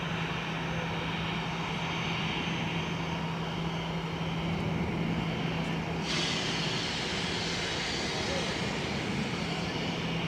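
An airliner on its takeoff roll at Zurich Airport makes a continuous broad engine roar from a distance, steady and loud across the whole stretch, with a sharp rise in hiss near the middle.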